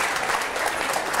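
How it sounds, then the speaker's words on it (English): Brief burst of dense audience applause, a steady wash of many hands clapping at even loudness with no talking over it. "Give her a round of applause."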